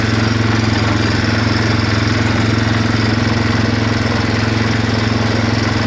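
A Suzuki 4x4 400cc quad bike engine runs at a steady, loud idle, with an even low rumble and chugging that stays unbroken and close throughout.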